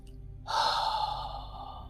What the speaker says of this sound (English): Maybe you give an audible exhale.